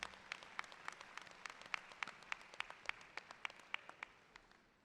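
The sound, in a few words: audience applause at a commencement ceremony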